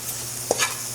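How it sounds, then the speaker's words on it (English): Curry powder toasting on low heat in a pot for Trinidad curry fish, with a soft steady sizzle and a brief close scrape of stirring partway through, no talking. "toast the curry properly"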